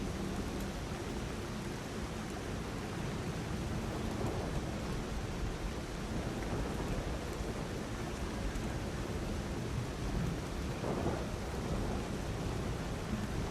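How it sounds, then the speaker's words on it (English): Steady rain and rolling thunder from a video game's weather, a dense constant wash of rain noise with low rumbles throughout, fairly loud and uninterrupted, with no voices. "You think it's the rain in the game?"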